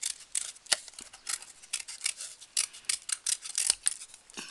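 Scissors snip repeatedly through material for a children's recycled craft gift, a quick irregular run of close, crisp cuts with no talking.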